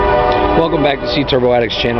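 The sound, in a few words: train passing with horn on nearby tracks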